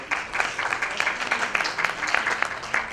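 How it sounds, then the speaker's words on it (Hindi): A dense patter of audience applause fills an event stage at a women's celebrity cricket league gathering as an investor guest is welcomed, with many quick overlapping claps held at a fairly steady, moderate level throughout. "जोरदार तालियां सर"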